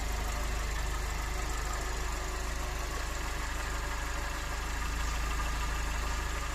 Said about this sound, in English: Maintains the idle pretty well.